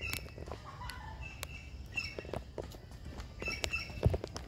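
A small black bird with a yellow breast calls near its nest, giving thin, high chirps and short whistled notes scattered among faint rustling and light footsteps outdoors.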